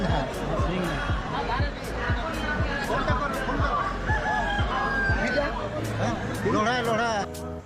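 Roosters crow repeatedly and hens cluck all around at a busy Aseel chicken market in West Bengal, loud and close, layered over the chatter of many people talking in the background.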